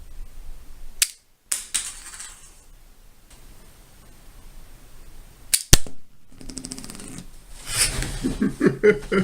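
Power Rangers Ninja Steel Power Star launcher firing plastic stars, several sharp snapping shots spaced apart with clattering handling and rustle between, the last few seconds busier with close rattling.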